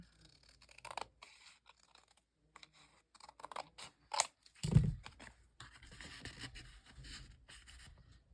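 Scissors trim a handmade paper cover in short, quiet, irregular snips with small rustles of paper between cuts, close by in an otherwise still room.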